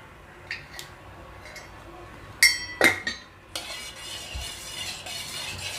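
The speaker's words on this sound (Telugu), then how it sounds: "మొత్తం కలిపేటట్టు కలుపుకోవాలి" A spoon stirs curd into a cooled liquid plant fertilizer made with spoiled curd, scraping and clinking against the vessel in several sharp knocks, then a softer continuous swishing.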